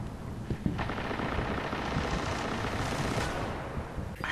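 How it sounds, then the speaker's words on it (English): Gunfire in the video game Destiny, a dense continuous rattle of shots with a few sharper bursts standing out, fairly loud and unbroken, no speech. "I hear a lot of gunshots coming from"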